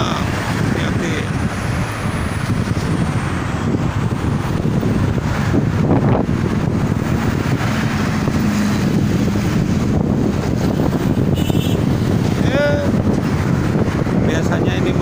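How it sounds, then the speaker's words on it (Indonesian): Strong wind buffets the microphone at a rest area beside the Jakarta-Cikampek toll road, a steady roaring rush that runs the whole time with distant traffic underneath and a person talking over it. "Anginnya cukup kencang."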